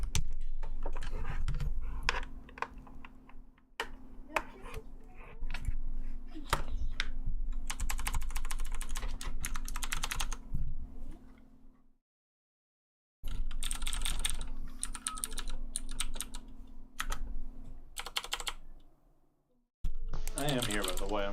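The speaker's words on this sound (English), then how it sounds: "I'm gonna try the keyboard again" Typing on a computer keyboard with a stuck Alt key, bursts of rapid close clicking broken by short pauses and a near-silent gap, over a faint steady hum with background movement.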